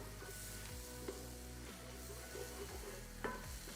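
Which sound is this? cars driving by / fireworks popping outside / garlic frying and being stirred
garlic frying and being stirred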